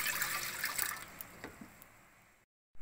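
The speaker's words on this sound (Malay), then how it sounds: "Masukkan air." Water pours into the pan of a bread maker as a soft, close splashing trickle that fades away and then stops.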